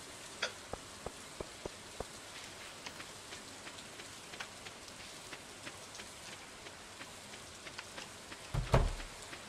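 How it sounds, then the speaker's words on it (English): Steady rainfall in the Stardew Valley video game, a soft continuous patter with scattered louder drips, fairly quiet throughout, ending with a brief heavier thump near the close. "nothing like a good rainstorm to kind of chill you out"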